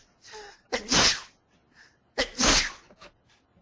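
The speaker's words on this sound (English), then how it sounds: "I'm sorry for sneezing in your ear, guys." Two loud, close sneezes, each a sharp burst with a quick intake before it, separated by about a second and a half of quiet breathing.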